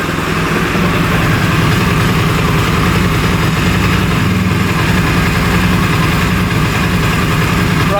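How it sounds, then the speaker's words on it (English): A Cannondale 440 race quad engine idling steadily, close and loud, with a continuous low rumble and even throbbing pulse throughout. "Run for about 2 minutes at idle speed, then turn the vehicle off."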